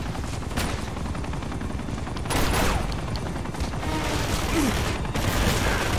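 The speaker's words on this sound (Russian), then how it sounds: "Попали под отстрел." Sustained automatic gunfire during an Uncharted 2: Among Thieves shootout near a helicopter, rapid overlapping shots with louder bursts, steady and fairly close throughout.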